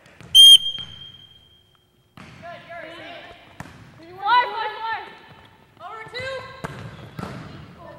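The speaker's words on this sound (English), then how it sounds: "Play until you hear the whistle." During a volleyball practice in a gym, a sharp referee's whistle blast sounds once at the start, followed by echoing voices, squeaking shoes and ball bounces.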